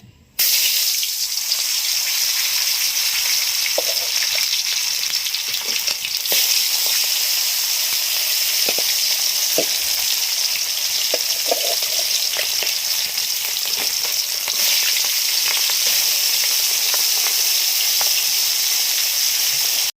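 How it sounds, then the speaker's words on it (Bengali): Loud, continuous sizzling of tilapia fish pieces frying in hot oil, a steady crackling hiss with occasional sharper pops, no voices. "এবার আমি মাছগুলো ভেজে নেবো"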